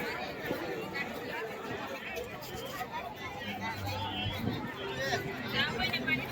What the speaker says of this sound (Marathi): बघू शकता तुम्ही किती गर्दी आहे